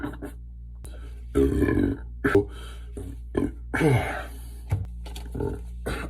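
Several burps and grunting belch sounds follow one another in uneven bursts over a few seconds, close and moderately loud, with short quiet gaps and throaty vocal noises between them.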